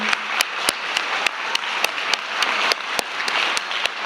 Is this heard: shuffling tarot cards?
no